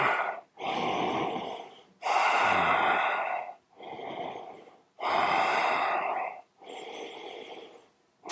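Deep, slow breaths during yoga practice come close and clear, with long rushing inhales and exhales alternating in a steady rhythm, a faint whistling edge on some breaths.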